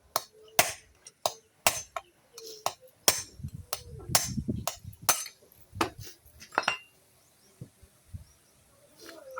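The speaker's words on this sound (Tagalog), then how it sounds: "pinupukpok natin yung bearing" Sharp metallic hammer blows strike repeatedly in an irregular rhythm, ringing close by as a Yamaha Mio i 125 scooter axle bearing is hammered out, with faint voices in the background.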